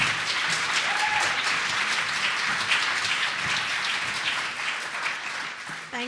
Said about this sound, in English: Can we please give a warm applause to Ingrid Waldron, everybody?